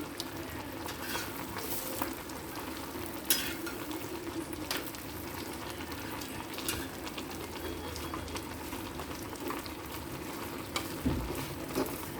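Onions fry softly in a pan for a Rayalaseema-style chutney, a steady low sizzle with occasional stirring clicks and scrapes, close but quiet, with no talking.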